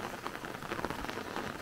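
Rain falls steadily on a farmyard where chickens shelter under a canvas and firewood sits stacked outside, a soft, even hiss of drops with faint patters, fairly quiet and continuous with no voices.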